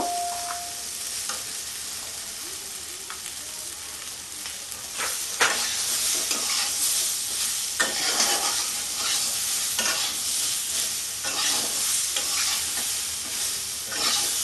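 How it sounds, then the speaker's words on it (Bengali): Raw green mango pieces frying in a pan for a Bengali-style chutney, with steady sizzle and repeated scraping stir strokes, close and continuous, no talk. "একটু ভাজা ভাজা করব"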